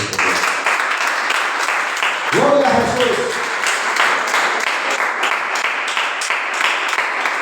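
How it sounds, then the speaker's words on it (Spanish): Congregation applauding in a church service, sustained loud clapping throughout with a voice briefly speaking over it near the middle. "Vamos a brindar un fuerte aplauso al Señor."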